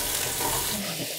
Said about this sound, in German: das Fleisch ist raus und das Gemüse kommt rein.